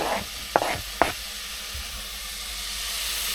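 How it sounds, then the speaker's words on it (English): Chicken curry ingredients frying in a warm pan aboard a boat, a light steady sizzle and hiss with a couple of sharp clinks from stirring utensils near the start. "Just a very light sizzle, not too hot."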